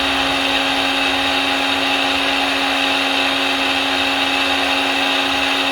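A mixer grinder blends cold coffee with milk and sugar, giving a loud, steady, unbroken motor whir close by with no talk.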